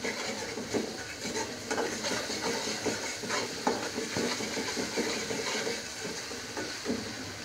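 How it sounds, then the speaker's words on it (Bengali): Turmeric and chili powder frying in oil for mustard hilsa, with a steady sizzle and hiss and a spoon scraping and stirring the pan at intervals. "এই চামচের 1 চামচ হলুদের গুঁড়া আর সামান্য একটু মরিচের গুঁড়া। এটাকে ভালো করে কষাবো।"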